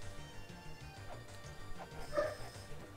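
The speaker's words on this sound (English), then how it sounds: "There's a dog in there." Small dog barks in the retro-styled video game La-Mulana, a few short yips rising over a steady looping chiptune background, moderately faint.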